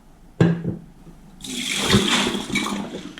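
Cooked rice is tipped into a sieve, a sudden splash of water followed by a steady rushing drain that keeps flowing for a couple of seconds, close and moderately loud.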